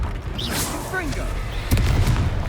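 A Confringo fire spell blast in Hogwarts Legacy during a boss fight, a booming fiery impact with crackling bursts, a heavy thump near the end, mixed with voiced spell calls and combat effects.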